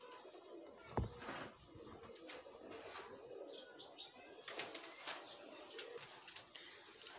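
Soft, low cooing of high flyer pigeons in a loft setup, heard close and faint with light rustles and a wing flap early on, no talk.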